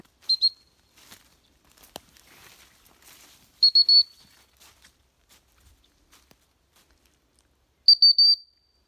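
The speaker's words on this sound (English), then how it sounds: "You'll notice that I've given her two recall whistles." Recall whistle blasts for a German Shorthaired Pointer during bird-hunting training, three sharp high double or triple toots spaced apart, with faint rustling footsteps and field noise between them.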